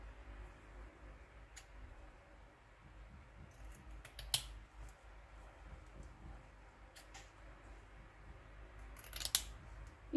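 Scissors cutting a machine-sewn fabric strip down the middle for patchwork quilting: quiet, sparse snips and clicks, a few sharp closes standing out against a near-silent room.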